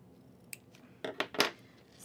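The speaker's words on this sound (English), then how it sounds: "And I have these ribbon scissors." Sharp ribbon scissors slicing through craft ribbon, a few quick crisp snips close up in a quiet room.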